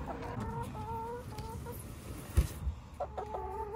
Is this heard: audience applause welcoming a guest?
no